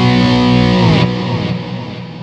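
Electric guitar played through a Fractal effects rig with heavy delay, reverb and phaser. A loud sustained chord smears into swirling echoes and fades away on its own.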